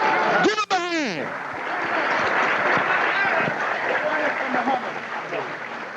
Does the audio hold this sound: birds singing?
no